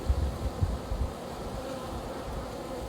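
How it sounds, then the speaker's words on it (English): Bees in a large, crowded hive hum in a steady low drone, close and moderately loud, with a few louder thumps early on. "And you can see it's just a bustling hive"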